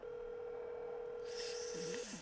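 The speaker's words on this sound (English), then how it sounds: "Come on, someone answer the phone." A telephone call rings out while waiting for an answer: a steady tone holds, then a brighter burst of ringing follows at a low level, with no speech.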